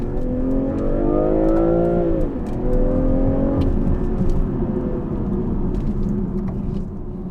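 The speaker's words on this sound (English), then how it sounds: "let's put down a few gears and slow down so I" BMW M340i engine note drops as gears are changed down, pitch sliding lower, then a steady rumbling pull with some road noise, heard loud and close with no talking.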